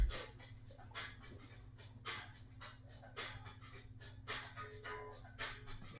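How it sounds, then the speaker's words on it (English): Slow, deep breaths during a yoga class, repeating at a steady relaxed rhythm. They sound soft and airy over a low, constant hum in the room. "Enjoy 3 more breaths here."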